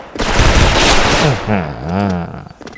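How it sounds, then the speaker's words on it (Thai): A Poseidon Kriss submachine gun rattles off a short, rapid burst in Special Force, loud and close, with a voice briefly talking over the tail. "ตัวนี้มันลั่นเร็วนะแต่กระสุนมันน้อยเกินนะผมว่า"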